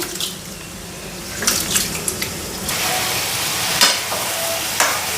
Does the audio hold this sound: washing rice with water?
yes